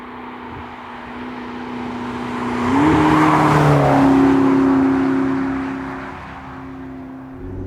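A McLaren 12C drives along with its engine note rising and swelling into a louder pass of revs, then settling back to a steady hum, heard alone without talk.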